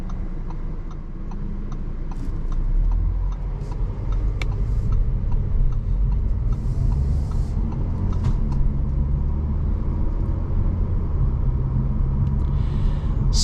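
A 2023 Audi A4 45 Prestige with a dual-clutch gearbox pulls away from a traffic light in rush-hour traffic, its low engine rumble building steadily from inside the cabin, with faint ticking and clicks over it.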